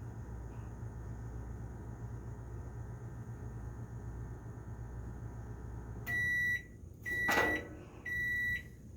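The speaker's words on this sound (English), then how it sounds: "That beep means the grits are done." Microwave oven cooking grits hums steadily with a low drone, then the hum cuts off and several clear, close electronic beeps sound in a short sequence, with a faint clunk between them.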